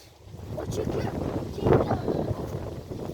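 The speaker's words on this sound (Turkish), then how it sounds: "Ama çok rüzgar esiyor." Gusty wind buffeting the microphone in rumbling bursts in a garden, strongest in the middle, with a voice faintly mixed in.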